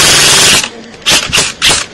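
An Echo1 Troy airsoft rifle fitted with an AoE piston mod fires a quick burst, the mechanical clatter loud and close, followed by three short repeated bursts of rattling cycling.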